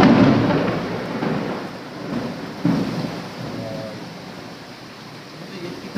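A deep rumble of thunder rolls and swells over steady rain, with a fresh crack partway through, loud and close.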